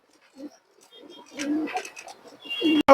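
Pigeons, including a silver khaki hen, coo in soft, low bursts that grow fuller toward the end, broken by short sharp clicks and rustles close by.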